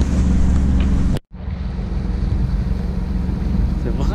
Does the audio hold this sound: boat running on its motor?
yes